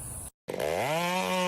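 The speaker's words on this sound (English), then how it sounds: "The sharp chainsaw growls" Chainsaw revving as it cuts through the top of a tree, with a short gap of silence and then a loud, rising engine whine that holds steady.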